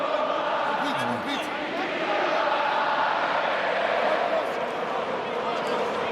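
Large rugby crowd in Italy roaring steadily through a Six Nations match against Wales, a dense continuous wall of cheering and shouting from the stands, loud and sustained.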